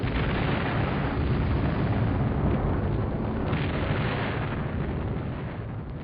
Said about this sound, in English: Bombs are also falling on the centre of government.